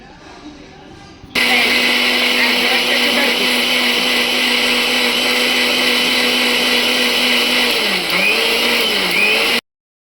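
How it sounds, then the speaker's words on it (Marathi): An electric blender grinds onion and tomato into a paste, starting abruptly into a loud, steady high whirring drone that holds for about eight seconds, wavering slightly in pitch, then cuts off sharply. "मग आता हे मी एकदम बारीक करून घेते कांदा आणि टोमॅटोची पेस्ट करून घेते"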